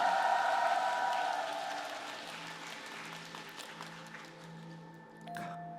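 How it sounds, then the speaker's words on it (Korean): Audience applause at a K-pop comeback live broadcast, starting fairly loud and thinning out gradually, with a sustained musical tone underneath and a brief bump near the end. "여러분 박수 한번 드립시다 이분들께"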